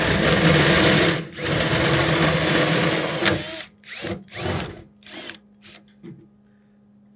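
Power drill with a 5/16 bit boring holes in a Toyota Tundra truck bed, a loud continuous whine for about three seconds, then several short bursts trailing off.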